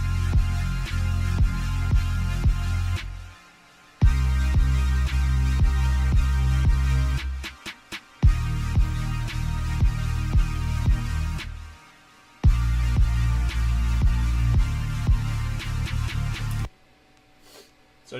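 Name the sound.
simple drum beat with LFO Tool sidechain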